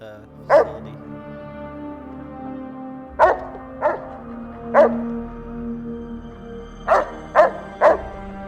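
Roxy, a cyber dog in the video game Fallout: New Vegas, barks in short, sharp, loud yaps, about eight in uneven clusters, over a low steady in-game background hum.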